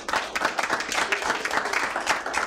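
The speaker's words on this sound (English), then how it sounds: "Let's give him a round of applause." Audience applause at a city council meeting: a steady patter of many hands clapping for a couple of seconds, moderately close, with no talk over it.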